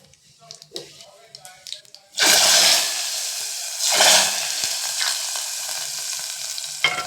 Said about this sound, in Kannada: ಈ ಕಡಾಯಿನ ಇಟ್ಕೊಂಡು ಒಗ್ಗರಣೆ ಹಾಕೋಣ ಅಂತ ಇಟ್ಕೊಂಡಿದ್ದೀನಿ